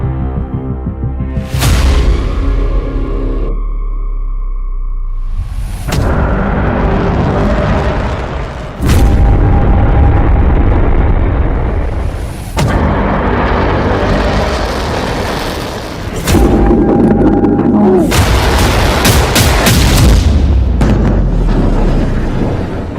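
Israeli bombing strikes Beirut at night: loud, heavy booms and rumbling blasts crash one after another, with sustained roaring noise between the sharp onsets.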